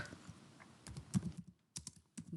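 Typing on a computer keyboard, a quiet run of uneven, irregular key clicks with short pauses between bursts, close by and without talk.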